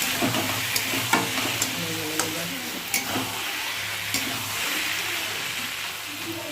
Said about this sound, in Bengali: আর একটু টানলে তারপর নেড়ে চেড়ে নামিয়ে দেবো।